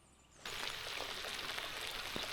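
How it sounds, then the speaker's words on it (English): Rain falling outdoors onto open water beside a small boat, beginning abruptly as a dense, steady patter of drops that keeps up evenly, close and fairly loud, with no talking. "Wasn't supposed to rain today."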